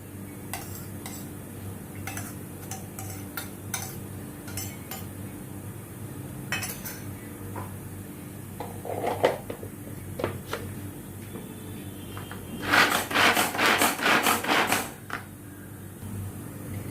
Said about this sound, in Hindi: इनको अभी मैं थोड़ा फाइन चॉप करती हूँ और ये चॉपर में मैं डाल के